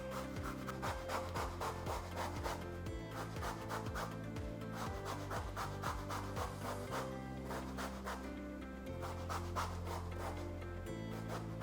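Grapefruit peel rasped steadily against a zester, a continuous dry scratching in quick repeated strokes, close and moderately loud with no talking throughout.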